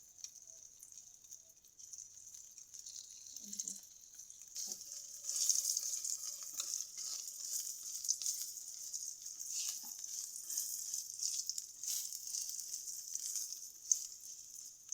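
An egg frying in a pan, a soft, steady hiss of sizzling oil that swells after a quiet start, with occasional small knocks and clinks.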